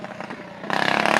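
A loud motorcycle with its muffler removed passes outside, a muffled rumble suddenly jumping into a harsh, rapidly pulsing bark.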